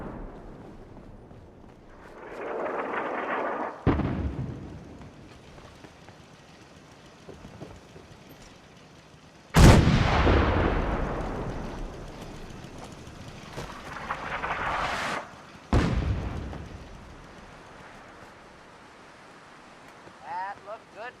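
Artillery shells land in Fallout 4 as a handful of heavy booms: one around four seconds in, a loud blast near ten seconds, then two more close together, each trailing off into a windy rumble.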